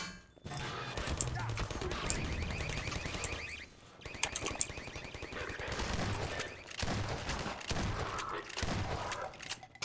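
A Half-Life 2 automated turret fires in long, dense rattling bursts, loud and continuous with a short break near the middle, mixed with chaotic game effects.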